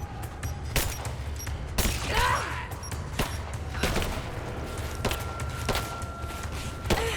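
Gunfire in the video game Rise of the Tomb Raider, scattered sharp shots cracking at irregular intervals over a low rumbling ambience, some close and loud, others more distant.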